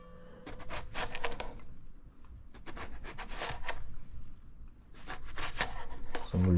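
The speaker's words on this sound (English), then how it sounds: "we can also just cut this again, and we'll get some reasonable chunks" A knife cuts through eggplant into chunks on a board, making repeated close, soft slicing and tapping strokes in short bursts with brief pauses between cuts.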